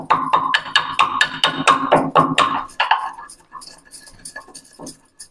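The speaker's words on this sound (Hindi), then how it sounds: "हम इलायची को कूट लेते हैं अच्छे से पहले" Cardamom pods pounded for gulab jamun syrup: about a dozen sharp, evenly spaced metallic strikes close by over roughly three seconds, then a few faint clinks and scrapes.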